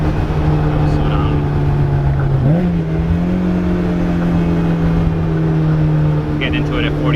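Honda S2000 fitted with a Ballade Sports titanium exhaust, heard with the windows down: a loud, close, steady engine drone with a brief rise and shift in pitch midway, then holding a sustained tone.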